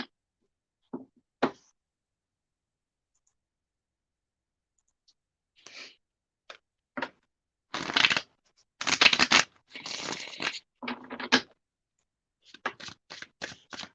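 Gilded Tarot cards shuffled by hand in scattered bursts, short papery riffles and soft taps broken by silent pauses, clustering more densely toward the end, close and clear.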